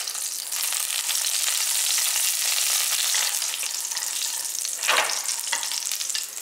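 Green chillies, garlic and ginger fry in groundnut oil with a loud, continuous close sizzle, joined by a brief stirring scrape near the end.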